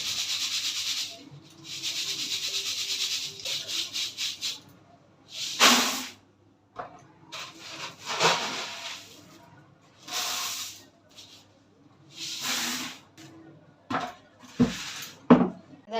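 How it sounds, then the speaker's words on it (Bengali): One kilogram of puffed rice (muri) is sieved to shake out dust, producing rhythmic bursts of dry, rattling hiss separated by short pauses, close and fairly loud. "ওই মুড়িটা বার করেছি, মুড়িটা এবারে চেলে নিয়ে রেখে দেবো"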